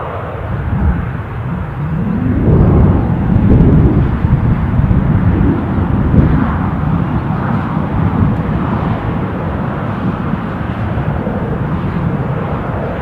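A KLM airliner's jet engines roar steadily at Newcastle airport, a loud broadband rumble that swells early on and then holds a sustained, slightly fading drone, heard alone without talk.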